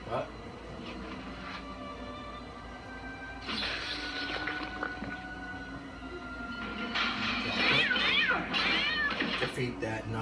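A cat meows in the video game Sphinx and the Cursed Mummy, a few short cries rising over steady game ambience near the end, with a voice talking softly underneath.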